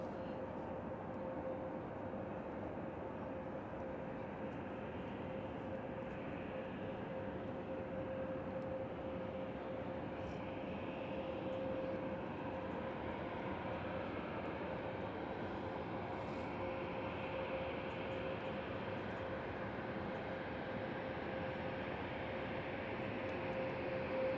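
An airliner approaching the runway before takeoff, heard as a steady distant engine rumble with a faint constant whine, unchanging and continuous throughout.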